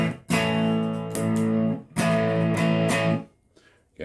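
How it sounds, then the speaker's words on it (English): An electric guitar plays through an amp with a King of Tone overdrive pedal set to distortion at 3, sounding thick, sustained, saturated chords in two long strums that ring out, then fade to near silence. "here's our distortion at 3 on the right side channel"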